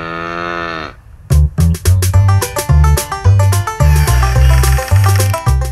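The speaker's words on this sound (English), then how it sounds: "La vache." A cow's long, tonal moo opens the passage, then gives way to a bright, rhythmic music-box style melody with bouncing plucked notes.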